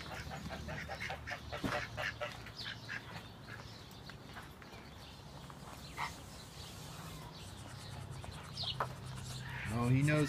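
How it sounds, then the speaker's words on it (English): Muscovy duck quacks and honking calls come through now and then under people talking nearby, with a louder call near the end. "This is a tropical duck. It's native to Central America."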